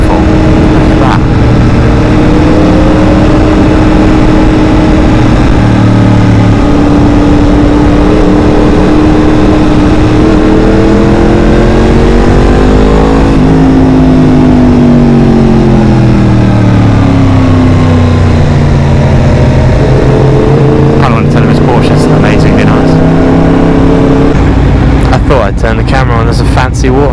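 Motorcycle with a cross-plane engine runs a mountain road on the Route des Grandes Alpes in France, its loud engine note rising and falling through gear changes and throttle sweeps, with wind noise present throughout.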